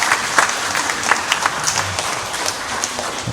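A church congregation at a Sunday worship service claps in celebration of members' birthdays, a lively scatter of individual hand claps forming moderate applause that stays fairly even, with a few sharper claps standing out.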